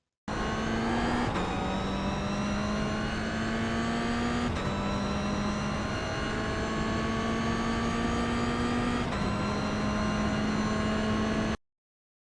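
Toyota GR86 at full throttle on the Tsukuba circuit, its engine droning loud and steady as it climbs through the revs, with sharp drops at each upshift and a sudden cutoff at the end; no voices.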